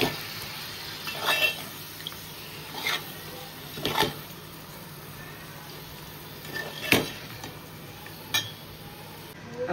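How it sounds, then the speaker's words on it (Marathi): A ladle scrapes and knocks against a pot while mutton is stirred for aagri-style biryani, giving a series of short clinks and rasps spread every second or two over a quiet kitchen background. "आपण व्यवस्थित मटण मिक्स करून घेतलं।"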